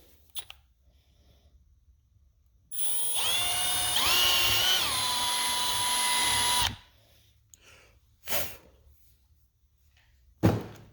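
A power drill with a 7/32 drill bit drills a hole in a car. It whirs steadily for about four seconds, its pitch dipping and rising as it bores, followed by a couple of short knocks.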